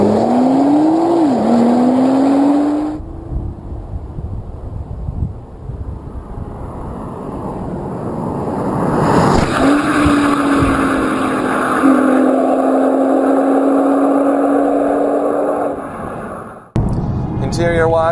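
A 2012 Nissan GT-R accelerating hard, its engine note rising through two long gear pulls with a brief lull between, loud and close with wind buffeting and a sharp cut at the end.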